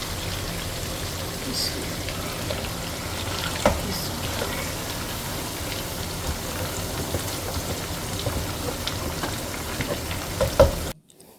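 Fish deep-frying in a pan of oil for a home-style fish curry, a steady dense sizzle and crackle running the whole time with a few louder pops, close by; a voice speaks briefly over it.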